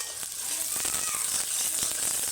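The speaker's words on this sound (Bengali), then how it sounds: "তেলটা গরম হয়ে গেছে, এবার দিয়ে দেবো পেঁয়াজ কুচি" Chopped onion dropped into hot cooking oil for a Bengali meat curry, giving a loud, steady sizzle with crackling pops throughout, no voices over it.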